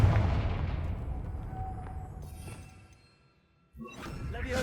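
Confringo blasting spell cast in Hogwarts Legacy, a loud booming blast with a whoosh that decays over a few seconds, then a second burst of impact noise.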